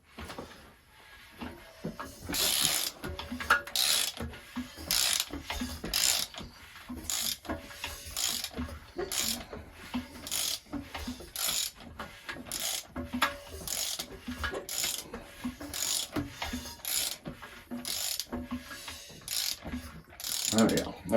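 A Nissan Juke MR engine being cranked over for a dry compression test, a rhythmic series of mechanical clattering bursts repeating steadily, close and fairly loud with no talking.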